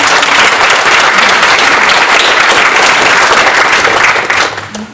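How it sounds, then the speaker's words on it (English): Mourners at a memorial service for Melba Louise Needham applaud in a steady, dense roar of clapping from a full room, holding loud and even before tapering off at the end. "would you please give them a hand clap?"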